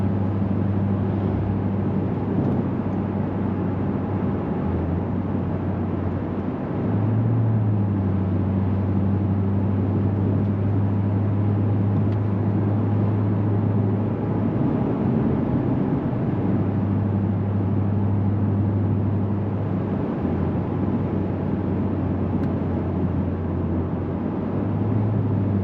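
A Lexus GS-F fitted with RR-Racing coilovers drives along a road, a steady low engine drone and road rumble from inside the cabin, with slight shifts in pitch as speed changes.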